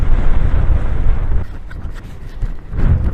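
Gusty wind buffets the microphone outdoors, a loud low rumble that eases midway and then surges again.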